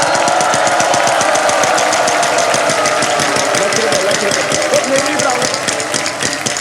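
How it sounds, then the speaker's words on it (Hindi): A Wheel of Fortune game show wheel spins on a studio stage, its pegs clattering in a rapid, steady ticking rhythm against loud studio noise and excited voices. "व्हील को आप घुमाएंगे।"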